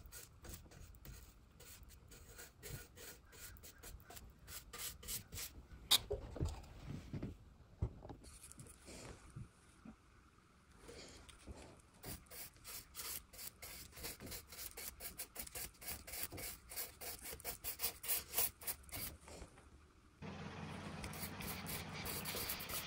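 Quiet, close bristle strokes of a paintbrush flicking back and forth over a wooden table spindle, a soft rhythmic swishing and rubbing in quick bursts with short pauses between.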